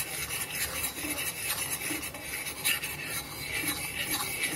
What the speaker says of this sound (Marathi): थोडंसं तेलामध्ये आपण भाजून घेणार आहोत डाळीचं पीठ.